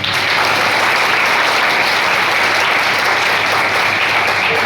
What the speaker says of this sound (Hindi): तो इसके लिए पहली चीज़ अपने आप के लिए तालियां बजाइए एक बार।